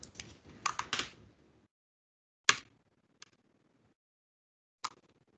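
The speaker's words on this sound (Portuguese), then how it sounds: "Deixa eu dar Enter aqui em cima, senão vai dar ruim." Keys struck on a computer keyboard during a Python data-science coding lesson: a quick cluster of crisp clicks, then three isolated taps spaced apart, close and clear with no talking.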